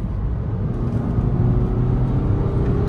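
2013 BMW 320D diesel accelerating hard on kick-down, heard from inside the cabin as a continuous low engine rumble and road roar that builds slightly through the run.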